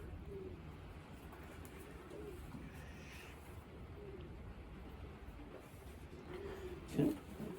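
Young racing pigeons in a loft coo softly in low, repeated phrases, with a faint background hum and a single muffled thump near the end.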